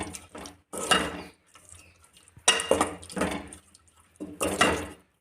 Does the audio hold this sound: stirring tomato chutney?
yes